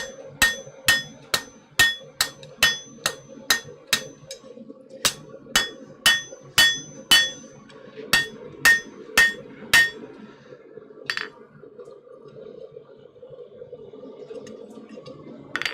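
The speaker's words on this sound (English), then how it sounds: "Ring test. Just hit the side of your anvil." Rapid hammer blows ring off the side of a blacksmith's anvil in a smithy, a long run of bright, evenly paced metallic pings with short pauses, then one last strike before a quiet hum.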